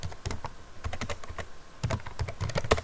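Rapid typing of code on a computer keyboard, close and clear, with uneven bursts of key clicks and brief pauses, no voices.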